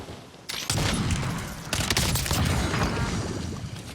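A MORS sniper rifle shot in Warzone cracks out suddenly, followed by a second sharp report and a long rolling echo of gunfire and mechanical clatter, loud and near, with no speech.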